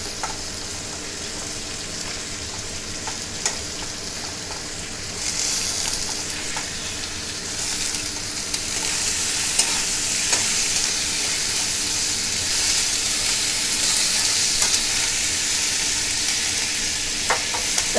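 Cut flat beans fry in a pan with a continuous loud sizzle that grows stronger partway through, broken by occasional light scrapes of stirring.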